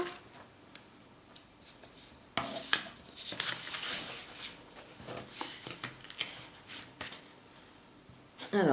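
Scissors snip and rustle through paper while a card envelope is being made, a few short irregular cutting and handling sounds, close and fairly quiet, with soft talk at times.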